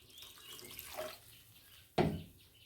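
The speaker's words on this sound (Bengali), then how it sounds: "এই যে যতটা তোমরা ঝোল চাও ততটা জল দেবে।" Water is poured into a pan of fish curry, a soft close trickle followed by a sudden louder splash near the end, with no speech.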